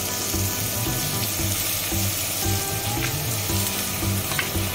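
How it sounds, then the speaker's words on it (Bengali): Garlic leaves frying with browned onions in a pan for mixed fried rice give a loud, steady sizzle, with regular stirring strokes pulsing through it and no talking. "এর মধ্যে আমি ওই গার্লিক পাতাটা মানে রসুন পাতাটা একটু দিয়ে একটু হালকা ভেজে নেব"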